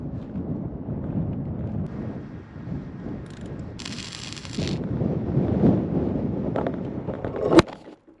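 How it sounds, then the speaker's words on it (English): Wind buffets the microphone in a steady low rumble, with a brief hiss partway through and a sharp knock near the end. "It's a little bit windy."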